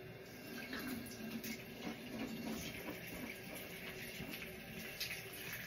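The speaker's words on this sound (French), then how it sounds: "Donc, ils se rincent la bouche." Tap water runs steadily into a sink during a morning mouth rinse, a continuous faint splashing that stays level throughout with no talk.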